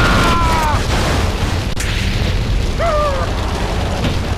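Boomshot weapon blasts in GTA Vice City Stories make a loud, continuous rumble of explosions, with short whining tones rising above the dense roar.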